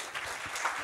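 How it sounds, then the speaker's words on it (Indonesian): A church congregation applauding after a call to clap for God, a brief burst of moderately faint clapping lasting under a second. "Kasih tepuk tangan untuk Tuhan"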